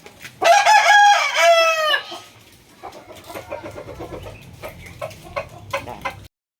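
A large fighting rooster crows loudly up close, one long strained call, followed by softer clucking and scattered chicken sounds.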